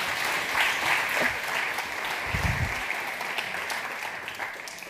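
A crowd at a Margaret Atwood event applauds steadily, a dense patter of many hands clapping that gradually eases off toward the end.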